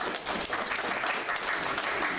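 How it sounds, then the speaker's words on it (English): Three people in a convention panel audience clap briefly and lightly, a thin smattering of applause lasting about two seconds. "there's 3 people that clap"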